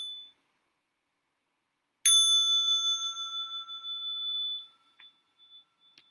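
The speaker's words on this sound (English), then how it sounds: "I'm going to invite the small bell for stretching and massage." A small meditation bell is struck once during a mindful eating and tea practice, a clear bright ding that rings out and slowly fades over a few seconds in an otherwise silent room.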